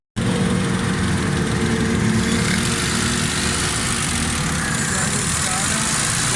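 A Suzuki Khyber car engine idles steadily after carburetor repair, a continuous close rumble with a faint voice talking under it.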